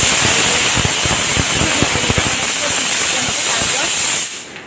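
A pressure cooker on the stove vents steam in a loud, continuous rushing hiss close by, holding steady for about four seconds before abruptly cutting off.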